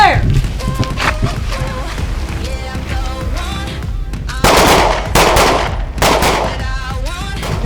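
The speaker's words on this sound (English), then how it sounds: "we just went to the 7-yard line doing some double taps" Pistol double taps ring out at a 7-yard line on an outdoor shooting range, sharp paired reports close by, with people speaking among the shots.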